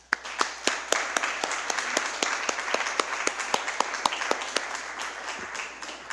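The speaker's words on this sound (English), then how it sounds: "I just like to have a round of applause for Bruce and Cassidy" Town council meeting attendees give a round of applause for two council members, a moderate crowd of clapping hands with crisp individual claps standing out, steady for several seconds before tapering off.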